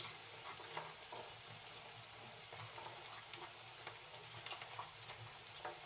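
Onions frying in oil in a pan for Telugu-style eggplant curry, a steady soft sizzle with scattered crackles and pops running throughout, close and fairly quiet, with no talk over it.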